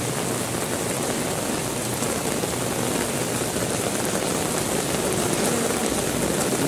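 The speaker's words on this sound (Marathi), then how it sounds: "इतका सुंदर पाऊस पडत आहे" Rain falls steadily in the hills near Dabhosa waterfall at Jawhar, Nashik, on a misty day, making a dense, even hiss that holds without a break and sits close and fairly loud, with no voices.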